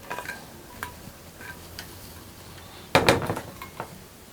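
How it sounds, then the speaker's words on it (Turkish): A Stanley thermos lid being closed indoors at room temperature, heard as a cluster of sharp plastic-and-metal clicks and taps near the end, preceded by a few lighter ticks, close and fairly quiet. "Hemen kapağını kapatalım"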